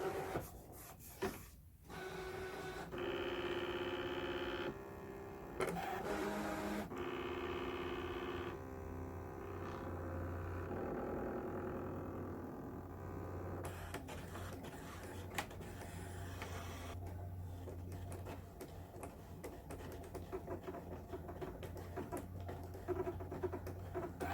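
An electronic vinyl cutting machine runs through a cut for a home decor project, its whirring, buzzing carriage motor and rapid tapping patter shifting in pitch as it moves, steady and close for over twenty seconds.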